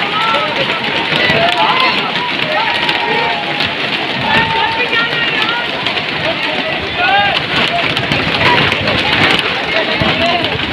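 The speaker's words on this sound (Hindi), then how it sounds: "ये देखें जी अभी भी बारिश आ रही है" Heavy rain hisses steadily and loudly at a lakeside spot, with people talking and a crowd murmuring underneath throughout.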